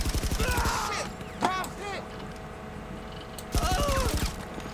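Rail gun shots in GTA 5 Online, with a loud rattling burst at the start, a sharp blast near the middle and another burst later, over steady game noise.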